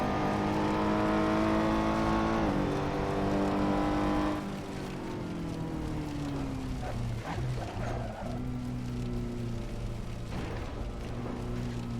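A Ferrari engine in a VR racing video game drones loudly and steadily, its pitch falling as the car slows, followed by quieter rising and falling revs under a low rumble.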